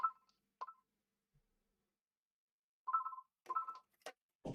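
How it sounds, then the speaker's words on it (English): A telephone rings indoors in a quiet room, a few short electronic tone bursts spaced apart, then a cluster of louder tones and a clatter near the end, moderately faint and with no talk. "And now the wonderful phone's ringing"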